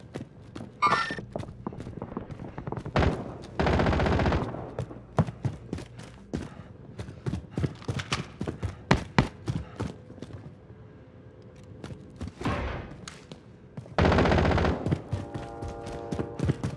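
Gunfire from a Call of Duty game rings out in sharp, scattered cracks and short automatic bursts, mixing near and far shots with hurried footsteps, loud throughout with no talk.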